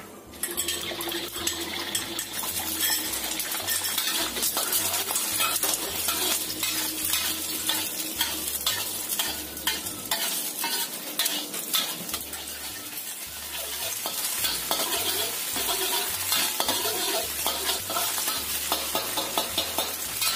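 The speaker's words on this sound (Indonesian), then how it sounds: "Kita goreng telurnya orak-arik" Scrambled eggs frying in hot oil in a pan, a continuous sizzle under repeated scraping and clinking of a utensil against the pan, steady and close throughout.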